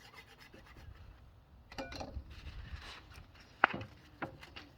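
A thrifted wooden kitchen board being sanded by hand, giving a soft, steady rasping scrape in uneven strokes, close by, with a couple of sharper knocks near the end.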